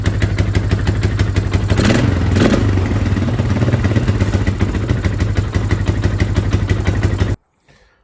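A 2004 Polaris Scrambler 500 ATV engine runs close up with a loud, steady, fast-pulsing chug and a brief rev, then cuts off abruptly into near silence just before the end.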